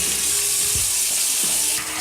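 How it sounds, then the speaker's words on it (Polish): Cold water gushes steadily from a tap into a plugged kitchen sink around a pot of rhubarb drink set in to cool, a loud, continuous splashing rush with no talking. "to wstawmy to do zlewu zatkanego. Nalejmy zimnej wody,"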